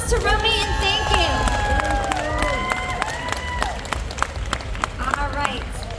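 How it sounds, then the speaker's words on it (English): An audience applauds at a pinup pageant held at a tattoo expo, steady clapping and crowd noise beneath someone speaking over a microphone. "round of applause to Rummy"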